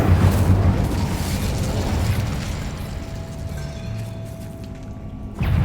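The Incendio fire spell is cast in Hogwarts Legacy: a loud, sustained fiery roar with booming, crackling bursts. It stays dense and steady, then flares sharply again at the end.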